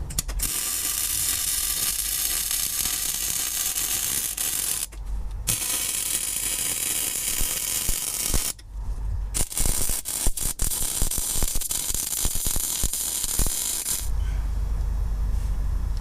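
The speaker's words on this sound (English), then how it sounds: "Now we're going to disconnect the stabilizer so he can finish welding it." Welding a steering stabilizer bracket onto the passenger-side frame of a solid front axle vehicle: a continuous close crackling hiss that runs with two brief pauses, with no talking.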